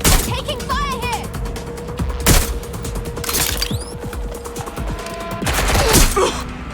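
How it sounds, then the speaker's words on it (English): Gunfire in the video game Watch Dogs Legion, with several bursts and sharp reports against a steady mechanical backdrop and chirping game effects, loud and close throughout. "Taking fire here!"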